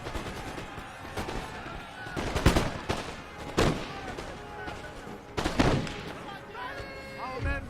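Musket volleys and artillery fire in a Napoleon Total War battle crackle and boom in scattered bursts, some loud and close, others more distant, over a background of battle noise.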